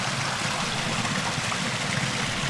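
Water from a stream on a hiking trail spills over small waterfalls, making a steady, dense rushing trickle that stays even and fairly close throughout, with no voices.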